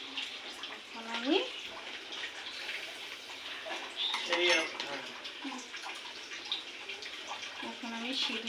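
Water splashes and pours in small bursts while a deity idol is bathed during a home ritual, with faint clinks of metal vessels now and then and soft voices nearby.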